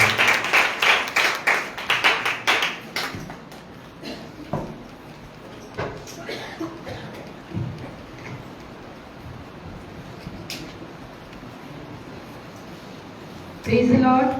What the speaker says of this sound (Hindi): तो जोरदार ताली बजा करके स्वागत